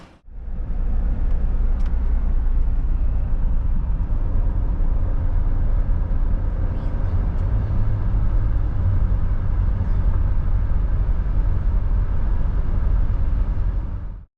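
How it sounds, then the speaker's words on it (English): A Dodge Caravan minivan with the 62TE automatic transmission at about 129,000 miles, driving on the road, gives a steady, loud, low engine and road rumble that holds throughout and cuts off abruptly at the end. "let's take it for a drive and hope it has gears."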